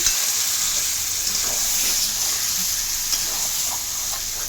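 Meat being stir-fried for kosha in a pan, a loud continuous close sizzle with faint stirring scrapes underneath, steady throughout, no talking.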